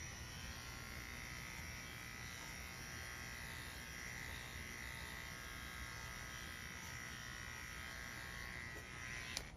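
Electric dog grooming clippers fitted with a 3/8 inch clip comb run in a continuous steady buzz, faint and even throughout with no pauses.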